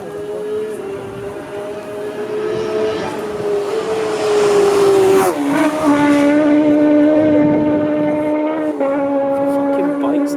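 Racing motorbikes at the Isle of Man TT road races at Barregarrow, a loud sustained engine roar with rising and falling pitch as machines scream past close by, one after another, with faint talk from spectators.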